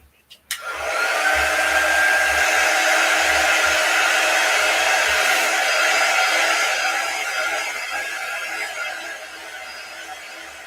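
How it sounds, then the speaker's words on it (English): A quick-dry heat tool blows on black velvet paint on crafted haunted house cutouts, giving a loud, steady airy roar that starts with a click and runs unbroken for about ten seconds before easing slightly. "Let's get my quick dry tool out. I'll give these a whirl and get all dry."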